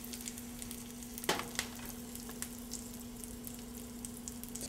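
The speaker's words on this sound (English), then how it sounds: "add your spice powders. And they'll start to bloom in the oil." Spice powders sizzle in hot oil for dal, a soft continuous frying hiss with a steady hum, a brief stir or clink and a few small crackles, close and fairly quiet.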